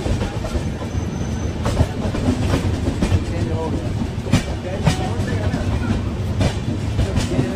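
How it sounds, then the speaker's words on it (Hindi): A train rolls over switching railway tracks beside a Lucknow–Chhapra train near New Delhi, giving a close, steady rumble with rhythmic clickety-clack wheel beats and brief squeals, while a voice talks over it. "देखो पटरी कैसे चेंज हो रही है"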